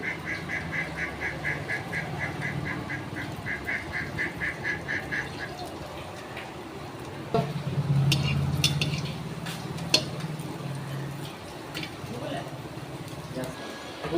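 Soybean chunks dropping into hot oil in a kadai, a steady frying sizzle that swells midway with spoon stirring and clinks, under a voice talking.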